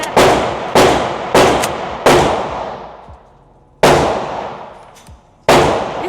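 Loud close gunshots from an MP5 clone, six sharp reports at uneven intervals, each ringing out with echo before the next, no talk.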